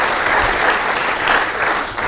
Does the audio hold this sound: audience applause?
yes